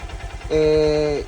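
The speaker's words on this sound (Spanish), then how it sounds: "este es el sonido de la Suzuki DR150 o Haujo NK150" A warm Suzuki DR150 motorcycle with 10,000 kilometres on it idles close by, a low steady putter, then a sustained bright horn-like tone takes over for about a second.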